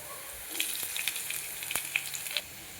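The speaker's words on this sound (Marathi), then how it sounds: "आता आपण मिरची टाकूया तळायला" Green chillies dropped into hot oil in a kadhai sizzle and crackle with a burst of sharp pops, close and moderately quiet, settling after a couple of seconds.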